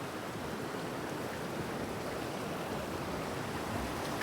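A river in Palin, Arunachal Pradesh, rushes along in a steady, dense, broadband wash. The flowing water is near and loud, holds constant, and no voices are heard.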